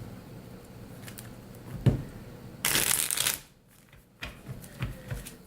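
Tarot cards are shuffled in a quick riffling burst, with softer taps and card handling before and after it, close and fairly quiet.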